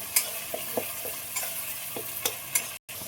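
Ginger garlic paste and ground coriander masala frying in a pan for an egg poach curry, stirred with a spoon: a steady sizzle broken by several sharp scraping knocks. A brief dropout occurs near the end, and no one speaks.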